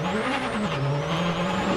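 A WRC rally car engine whines and shifts pitch while tires scrub and skid as it drifts between walls at Rally Monte Carlo 2013, a continuous loud motorsport roar with no clear impacts standing out.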